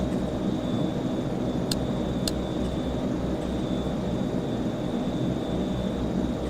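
A single-engine propeller plane taxiing in the P3Dv5 flight simulator, its steady engine drone constant and loud throughout, with two faint clicks partway through.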